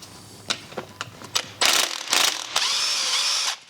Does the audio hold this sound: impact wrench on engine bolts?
yes